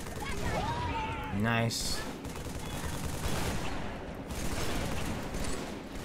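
Gunfire crackles in Halo 3 in rapid overlapping bursts that sound like automatic weapons, loud and continuous, while players talk over the shooting.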